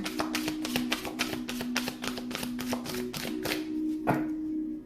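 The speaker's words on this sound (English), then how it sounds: "let's do 2 more shuffles for Cancer" Tarot cards being shuffled in a run of quick, crisp riffling bursts with a steady rhythm, close and fairly loud, ending in a final snap; no one talks.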